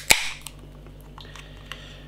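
A 440ml can of IPA beer cracked open with a single sharp hiss-pop at the start, followed by a few faint clicks in an otherwise quiet room.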